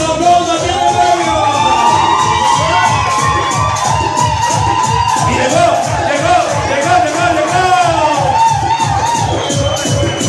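Diners at tables in a bar-restaurant in San José cheer and shout loudly over a steady, pounding music beat. The lively crowd noise rises and falls without pause.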